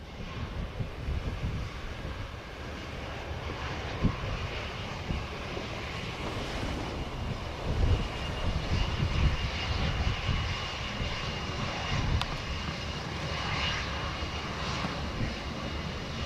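A Transat airliner takes off from runway 07 at Montego Bay in a strong crosswind, its engines a loud, steady, broad roar that holds for the whole stretch, with wind buffeting the microphone.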